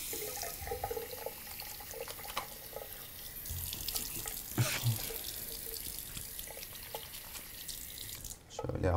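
Tap water runs continuously into a bathroom sink while a face is washed, with splashing changes and brief handling noises close by.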